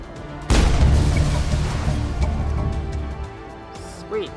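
A satellite uplink blowing up in Mass Effect, starting with one sharp, loud boom that rolls into a long, fading rumble, with a faint voice-like sound near the end.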